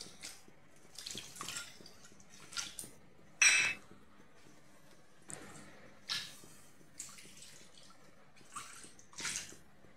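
Mustard-spice paste with onion, garlic and ginger mixed in water being poured into a pan, several soft splashing bursts spaced over the stretch, close but fairly quiet, with no talking.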